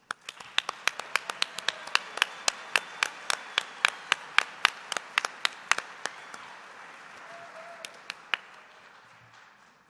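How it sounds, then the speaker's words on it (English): Thin applause from a small audience honoring health and life sciences award winners at a presentation ceremony: a few distinct, sharp hand claps in an uneven rhythm that gradually thin out and fade. "Please join me in a round of applause for Indy's best and brightest health and life sciences honorees."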